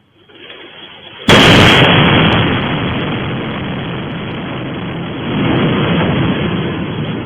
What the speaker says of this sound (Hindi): ईरान ने इजरायल पर बैलिस्टिक मिसाइल से हमला किया है।